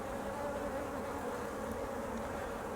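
Honey bees buzz around a poly hive in an apiary, a continuous droning hum of many insects close by that stays steady and fairly faint, with no talking.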